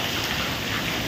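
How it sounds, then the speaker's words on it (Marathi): Heavy rain in Thane pours down steadily at the Thane depot, a dense, continuous hiss of downpour with no break, loud and close. "आता खूप पाऊस आहे ठाण्यामध्ये"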